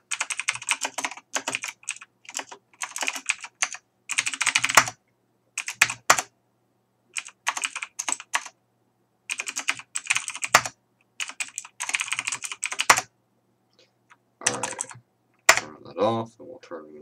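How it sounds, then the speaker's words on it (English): Rapid bursts of computer keyboard typing during an old DOS typing game, with fast clattering keystroke runs separated by brief pauses, fairly close and clear, with occasional faint background sound. "we're going to see how fast I can type different things"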